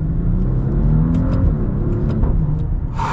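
A 2022 Maserati Quattroporte Modena Q4 with ZF 8-speed automatic accelerating hard in manual mode, heard from inside as a loud, rising engine rumble and roar with gear shifts, with no talking over it.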